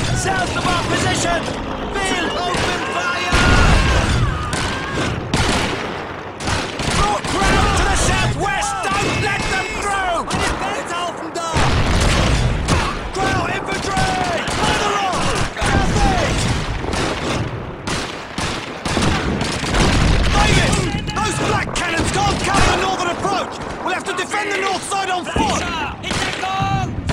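Dense World War II battle gunfire in Call of Duty 2 rattles close and loud, with bursts of rifle and machine-gun shots and heavy thuds under shouted voices.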